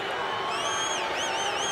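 Melbourne Storm fans shouting and whistling at a 2022 rugby league match against Manly, a steady crowd roar with sharp rising whistles in the foreground, mixed with broadcast commentary.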